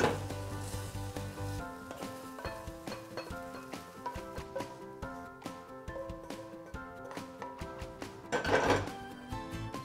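Cooked onions and garlic being scraped from a hot pan into a bowl, with a continuous sizzle and repeated metallic clinks and scrapes of a utensil against the pan, close up and without any talking.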